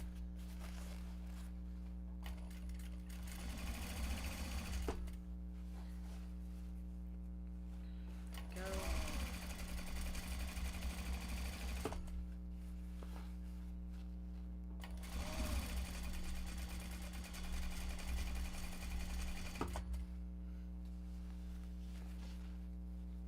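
A sewing machine stitches Japanese fabric bags with its stitch length increased, running in three long bursts with pauses between, close and steady over a constant low hum, with talk around it.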